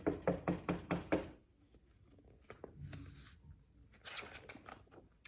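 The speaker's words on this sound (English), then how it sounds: "there was a knock at the door of the castle" Several sharp knocks on a castle door, a sound effect in a read-aloud story, come as a quick, even run of about five loud raps. Quiet rustling and soft background noise follow.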